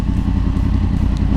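A Yamaha MT-10 motorcycle on the move, its engine a loud, steady low rumble with dense roaring texture throughout the short stretch, heard up close and with no talking.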